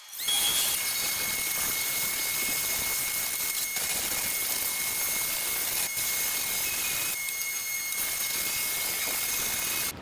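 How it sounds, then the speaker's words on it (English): A power drill whines at a steady high pitch while a wire wheel grinds and scrubs foam off a car headliner continuously, loud and close. "use this method with the wire wheel and the drill"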